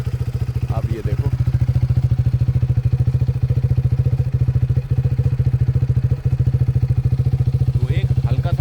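A KTM Duke 390 BS6 motorcycle idles close by with a steady, rapid engine and exhaust pulse, constant throughout, while someone talks over it.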